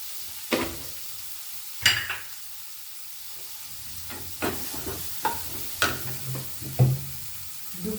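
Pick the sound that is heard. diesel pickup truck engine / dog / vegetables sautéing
vegetables sautéing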